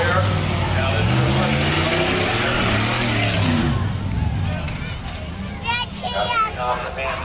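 A racing vehicle with pink wheels drives at Buck Motorsports Park, its engine roaring loud and rising in pitch as it pulls away, then fading, while a voice talks over it.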